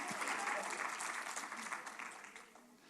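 A church congregation bursts into loud, dense applause acclaiming the Lord Jesus, the clapping sustained for a few seconds before tapering off as a voice begins underneath.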